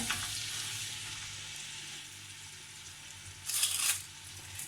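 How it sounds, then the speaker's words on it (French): Onions and garlic sizzle in oil and a little butter at the bottom of a pot, a steady close frying hiss that swells briefly louder near the end as they are stirred. "je commence par mettre de l'huile et un peu de beurre dans le fond de la marmite. J'y verse les oignons et l'ail."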